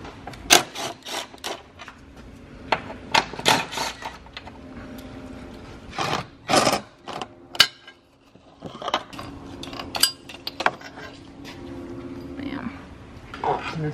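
Bolts are backed out of the automatic transmission oil pan on a BMW (E90/E92/E82/E60 series), giving a string of close metallic clicks, ratchet ticks and clinks in irregular bursts with a short pause midway.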